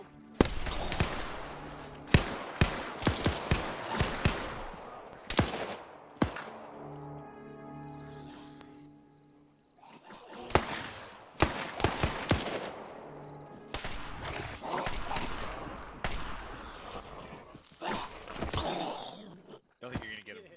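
Repeated gunfire in a post-apocalyptic video game: sharp, loud single shots and bursts scattered throughout, with a few quieter gaps between volleys.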